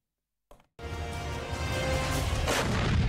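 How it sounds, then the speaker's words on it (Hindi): A Russian 2S7 self-propelled artillery gun fires once, a sharp blast followed by a loud, sustained roaring rumble that builds and rolls on, close and powerful, with no talk. "परमाणु बम गिराने वाला रूस का ये तोप कैसे आग उगलता है, कैसे आग बरसाता है, इस रिपोर्ट में देखिए।"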